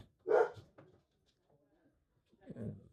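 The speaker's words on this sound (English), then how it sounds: "my dog's barking" A dog barks a couple of times, loud and close at the start, then again near the end, with quieter sounds in between.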